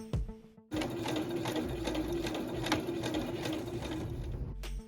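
Sewing machine running steadily for several seconds, a close, even mechanical whir and rapid needle chatter while stitching hair wefts and a rubber piece onto a doll wig, with short stops at each end.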